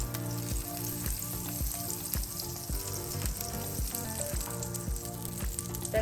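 Butter sizzles on a heated sandwich grill, a constant close hiss under rhythmic background music.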